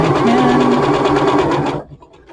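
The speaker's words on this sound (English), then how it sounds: "now I'm going to sew across the top as close to the edge as I" A sewing machine stitches across the top edge of a hat in a steady, fast whirring run that stops abruptly near the end. It is loud and close, with no talk over it.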